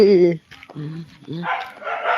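A native country dog barks a few quick, close times in a short burst, with a voice speaking alongside.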